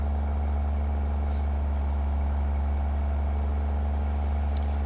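Cummins N14 truck engine idling steadily in a video game, a deep, constant low rumble with a faint hum above it, unchanging throughout and free of any voice.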